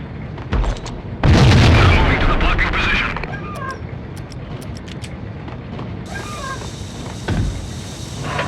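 A grenade explosion in the 2001 PS2 game Max Payne bursts loudly and close, followed by a decaying rumble, with scattered game effects and brief voices around it.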